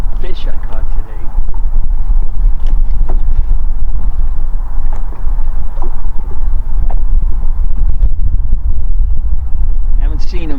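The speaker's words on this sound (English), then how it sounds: "I asked for wind, I got it." Strong wind buffeting the microphone on Noxon Reservoir in Montana while fishing from a boat, a constant loud low roar with scattered knocks and rattles throughout.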